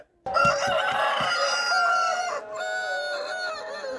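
A village rooster crows loudly and close by, a long strained cock-a-doodle-doo followed by a second, slightly weaker call.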